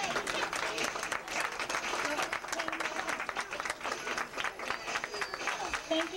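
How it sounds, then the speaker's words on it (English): Spectators at a 1990 department-store fashion show applaud the models, a lively, uneven patter of clapping from a modest crowd with some chatter mixed in. "Okay, one last round of applause for our models."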